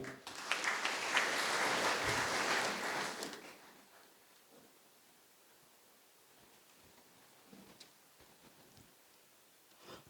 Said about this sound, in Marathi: पुन्हा आपण टाळ्या वाजवूया.